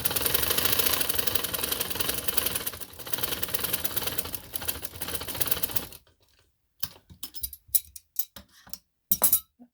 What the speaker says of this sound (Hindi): ये मैं सिलाई लगा रही हूँ, ठीक है, कॉलर कंधे की